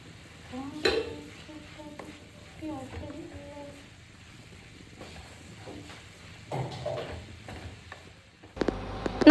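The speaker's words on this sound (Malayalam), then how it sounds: "നമ്മൾ വേവിപ്പിച്ച് വെച്ച കായെല്ലാം ഒരു ചട്ടിയിലേക്ക് മാറ്റി അതിലേക്ക് അരപ്പ് ആഡ് ചെയ്ത് കൊടുത്തു" Plantain curry with coconut paste being stirred in a pan, intermittent scraping strokes and a soft simmer, with quiet clatter near the end.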